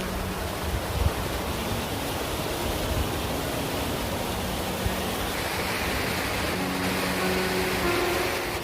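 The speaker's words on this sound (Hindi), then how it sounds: "ये वाटरफॉल है।" A waterfall in Spiti Valley, Himalayas, roars as a dense, continuous broadband rush of water, steady and fairly loud, beside a nature restaurant seating area, with no talking.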